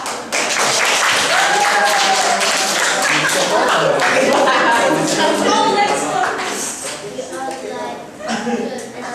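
A group claps and cheers loudly for several seconds, the applause thinning toward the end with voices mixed in.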